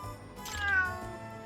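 A single cat meow from the video game Lost Judgment, a short, clear, high-pitched call standing alone against a faint quiet background.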